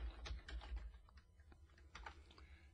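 Quick, light keystrokes click on a computer keyboard as figures are entered into a spreadsheet, an irregular run of soft taps heard close and quiet with no talking.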